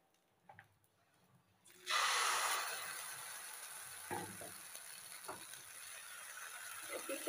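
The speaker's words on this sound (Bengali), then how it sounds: "একইভাবে সবগুলি ভেজে নেব।" Semolina snacks are dropped into a hot pan with oil and burst into a loud sizzle that settles into steady frying hiss, with a few soft clinks and taps close by and no talking.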